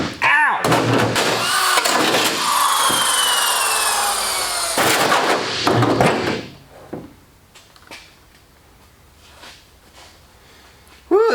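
A DeWalt power drill runs loud and close with a grinding, whining buzz for about six seconds, then cuts off, leaving scattered knocks, clunks and handling noises.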